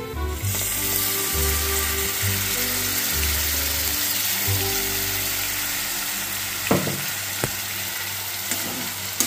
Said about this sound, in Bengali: এবারে এর মধ্যে আমি যে পালং শাকটা বেটে রেখেছি ওটা দিয়ে দিচ্ছি।